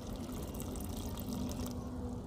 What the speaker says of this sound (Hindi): और भी हम डाल देते हैं कुछ पानी